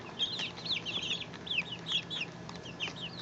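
Silkie chickens cluck and chirp near their roost, a busy run of short, high, repeated calls overlapping one another, close and fairly loud.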